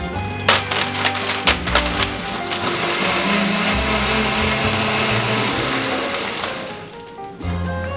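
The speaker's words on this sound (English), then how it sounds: "Put the cap on the blender and begin to crush the ice first." A blender crushes about 1.5 cups of ice for margaritas, loud and close, starting with a few sharp clattering bursts, then settling into a steady grinding whir before stopping and restarting briefly.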